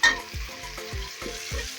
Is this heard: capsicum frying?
yes